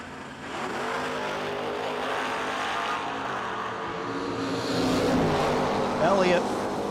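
Drag race cars, a Camaro and a black Mustang, rev and launch at a no-delay drag racing event, a loud continuous engine roar swelling toward the end, with an announcer talking over it.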